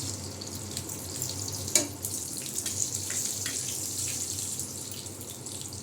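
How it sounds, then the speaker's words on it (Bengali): Mustard seeds sputter in hot oil in a pan, a steady hissing sizzle with scattered faint pops and one sharper crackle, close and continuous without talk. "একটু সর্ষে ফোড়ন দিয়ে দিলাম।"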